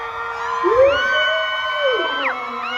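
An audience cheers and whoops loudly for a performer, with high, rising shouted voices that swell and hold for a couple of seconds. Clapping is barely distinct beneath the crowd's voices.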